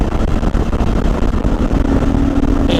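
A CSC RX4 adventure motorcycle engine while riding, a loud continuous rumble with wind noise and a steady tone close by.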